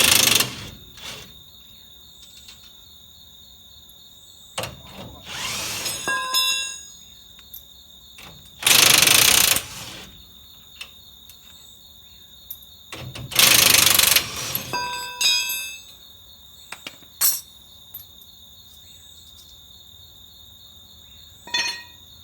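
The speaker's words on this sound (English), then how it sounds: "Now I'm going to loosen up these 4 bolts, these U-bolts that hold up that differential to the leaf spring." Wrench work loosening the four U-bolts that hold the differential to the leaf spring on a Ford F-150: three loud broadband bursts separated by quieter gaps, with sharp ratcheting clicks and a few metallic tings in between. No talking.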